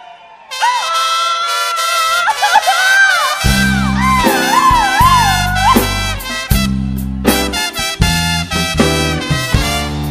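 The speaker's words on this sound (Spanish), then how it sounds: "A ver, mi gente, el grito machín." At a live concert, a crowd gives a loud grito machín, a long wavering whoop over a band whose bass and brass kick in and keep playing.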